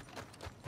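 Horse hooves clip-clop in Red Dead Redemption 2, three soft, evenly spaced footfalls at a walking pace, fairly faint and close, with no voices over them.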